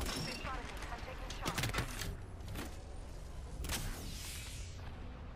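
Gunfire in a multiplayer shooter video game: several sharp, loud shots in uneven bursts over a steady background of game noise, with some voices faintly present.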